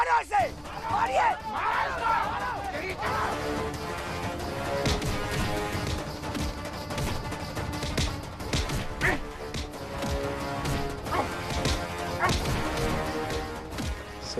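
A crowd beats a man in a staged Hindi TV drama scene: repeated thuds and crashing blows land under a constant bed of music and agitated, overlapping voices.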